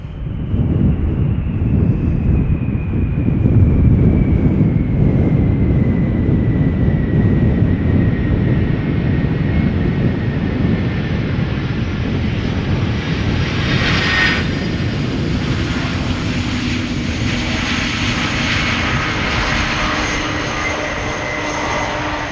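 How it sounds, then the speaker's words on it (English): An airplane lands at Schiphol Airport, its engine roar strong at first with a falling whine, then easing into a broad rumble with wind buffeting the microphone, and no thrust reverser surge. "Nice landing, not very loud though."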